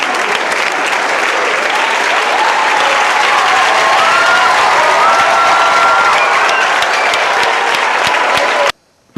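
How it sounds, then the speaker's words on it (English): Thunderous applause from a large crowd greeting a state governor's arrival at the Ijaw National Academy in Kayama, loud and dense clapping sustained throughout before cutting off abruptly near the end. "The thunderous applause accorded the countryman governor on arrival at the Ijaw National Academy, Kayama"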